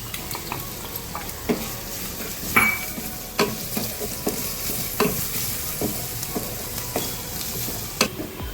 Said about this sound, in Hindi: जैसे ही ये ऑलिव ऑयल गर्म हो गया है तो हम ये अनियंस जो है वो डाल देंगे।